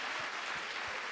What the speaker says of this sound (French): Mesdames et messieurs, je voulais qu'on les applaudisse très fort, on les salue